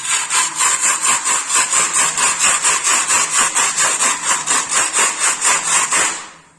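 A plastering float rubs back and forth over a wall surface during flat-wall preparation in an apartment renovation, giving a steady rhythmic scraping stroke about three times a second, loud and close, with no talk.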